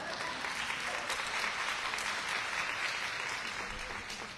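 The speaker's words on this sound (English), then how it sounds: "That was an applause line." An audience at a Houston Food Bank press briefing breaks into applause, a continuous wash of clapping that holds steady and fades slightly at the end.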